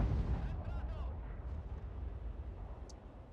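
A tank firing high explosive shells in World of Tanks, one heavy booming shot at the start with a rumbling tail that decays into low background noise, close and loud.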